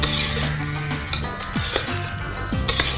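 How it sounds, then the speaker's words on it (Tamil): Rice fries in ghee in a pan, a loud steady close sizzle with occasional scraping and clinking of a utensil against the pan. "இது அந்த நெய்ல வந்து நல்லா ஃப்ரை பண்ணிக்கிறோம்."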